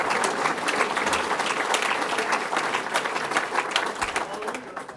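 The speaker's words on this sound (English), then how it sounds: "let's give them a round of applause for innovation in fishing" An audience at a bass-fishing governor's challenge event gives a sustained round of applause, loud and dense clapping lasting the whole stretch, with faint voices mixed into the crowd.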